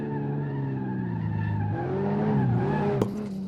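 A Toyota GR Supra with a turbo six-cylinder running downhill on a mountain road, engine droning steadily while tires squeal and skid through corners, the pitch sliding as it drifts, close and loud.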